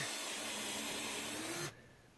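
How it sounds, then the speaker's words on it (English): A power drill whirs steadily for under two seconds, then cuts off abruptly, leaving quiet room noise. "let me just kind of drill that out again."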